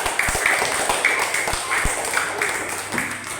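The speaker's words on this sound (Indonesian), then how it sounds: "tepuk tangan untuk kelompok 2" Schoolchildren in a classroom clap for a student group, a lively crowd of hands with a few sharp, close claps standing out and voices chattering underneath.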